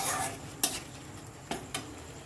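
A ladle scrapes and taps in a pan while a ground cashew and melon seed paste is sautéed, with a few faint, sharp clinks over a quiet background.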